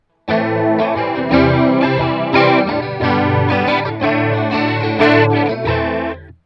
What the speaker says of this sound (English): the ensemble is the famous Boss chorus ensemble